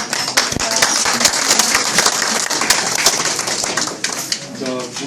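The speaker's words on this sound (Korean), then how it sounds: "박수를 쳐야 안 되겠습니까?" Audience at a Jinju Museum 30th anniversary reception applauding, with loud, dense clapping that fills the room and overlaps with talking throughout.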